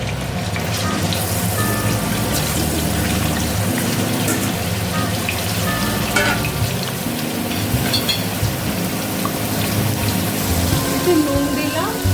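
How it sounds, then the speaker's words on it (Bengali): Potatoes frying in a pan of hot oil while cooking biryani, a loud, continuous close sizzle with dense crackle throughout and no letup. "এর মধ্যে আমি এবার আলুগুলোকে ভেজে নেব"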